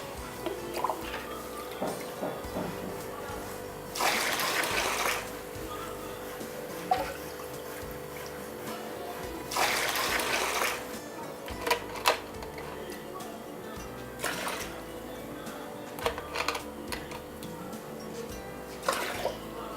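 Water being siphoned from a dirty aquarium tank gurgles and splashes in repeated bursts, with quiet stretches of trickling and faint dripping between them, close and moderately loud.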